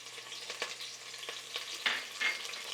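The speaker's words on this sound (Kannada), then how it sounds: "ಈ ಕರ್ಬೇವಿನ ಸೊಪ್ಪು ಹಾಕ್ತಾಯಿದ್ದೀನಿ" Curry leaves dropped into hot oil in a pan while cooking an avarekalu mutton keema, a soft crackling sizzle with a few brighter pops and light stirring, faint and close.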